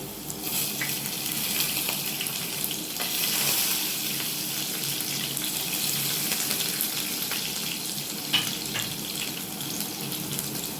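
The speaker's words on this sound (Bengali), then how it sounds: "এবার দেব আদা কুচি, লঙ্কা কুচি," Chopped ginger and green chili sizzle and fry in hot oil with asafoetida in a pan, a steady close hiss with occasional crackles and no talking.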